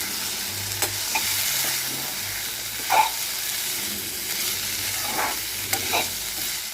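Sprouted moth beans stirred into masala in a hot pan, a soft continuous sizzle with intermittent scraping and clinking of a spoon against the pan, close and moderately quiet, no voices.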